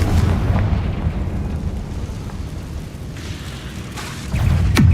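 Spell explosions from Bombarda and Confringo in the Hogwarts Legacy open-world video game, a loud sustained rumble of blasts with a sharp burst at the end.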